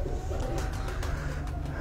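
A fancier's pigeon coos softly in a low, throaty murmur, with a few faint repeated coos under steady background noise.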